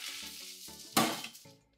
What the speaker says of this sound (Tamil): கடுகு பொரிஞ்சோடனே கருவேப்பிலை போடுறேன்.